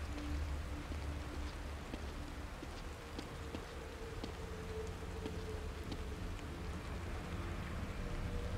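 Steady rain pours continuously in the video game The Evil Within, a dense, even hiss of drops with no pauses, alone without voices.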